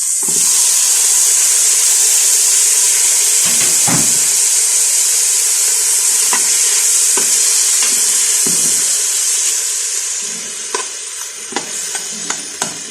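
Tomatoes added to sautéed onions hiss loudly in a hot frying pan for bitter gourd (ampalaya), a constant close sizzle with occasional scraping clicks of stirring that quiets near the end.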